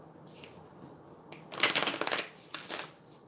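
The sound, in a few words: shuffling affirmation and oracle cards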